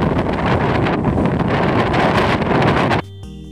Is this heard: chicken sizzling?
no